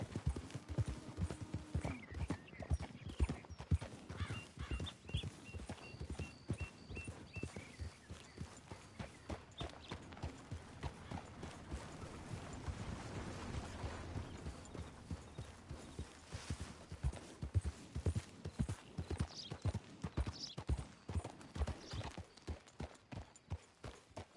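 In the video game Red Dead, a horse moves at a quick pace with steady, rhythmic clip-clop hoofbeats. A short whinny sounds near the start.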